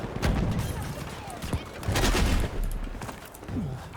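Battlefield V Selbstlader 1916 rifle firing during a match, bursts of sharp shots and fusillade-like gunfire with overlapping battle noise, loud and dense, with a voice talking at times.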